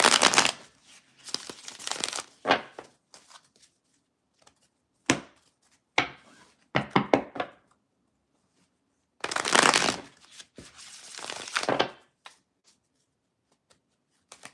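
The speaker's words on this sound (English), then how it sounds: "I'm going to go ahead and shuffle 3 times." Tarot cards are shuffled in several quick, riffling bursts with brief quiet gaps between, crisp and close, and no one speaking.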